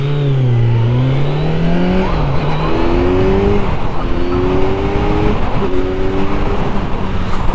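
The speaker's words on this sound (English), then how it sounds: "Let's just go down to first gear and just do a little baby launch." A 2024 Kawasaki Z900 motorcycle doing a gentle launch in first gear, its engine loud and near, rising in pitch through several short climbs with brief drops between them.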